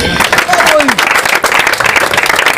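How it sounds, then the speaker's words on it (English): Crowd clapping for a school football team at an outdoor gathering, a dense, loud burst of applause with voices calling out over it. "Let's clap for Fafi team."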